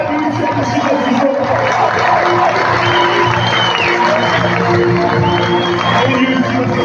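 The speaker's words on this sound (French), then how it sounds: "j'aimerais qu'on applaudisse très très fort le coach Yannick Verdier" A crowd at a handball match applauds and cheers for the coach, a dense, steady wash of clapping and shouting that holds at an even level from start to finish.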